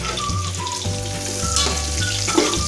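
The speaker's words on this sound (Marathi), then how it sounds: "आता यामध्ये मी हे जे कांदे घेतले आहे उभे चिरून ते घालतीये" Lengthwise-sliced onions fry in oil in a pan over moderate heat, a steady close crackling sizzle with a low hum beneath and no speech.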